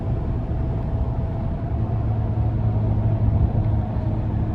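A 2016 GMC Sierra 3500HD Denali dually with a 6.6-liter Duramax turbodiesel V8 drives along, its engine giving a deep, steady rumble and drone that stays loud and even throughout from inside the cab.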